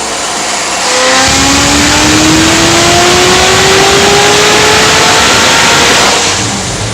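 A muscle car engine with no muffler revs hard on a dyno, climbing steadily in pitch as it pulls for several seconds, loud and raw, then easing off near the end.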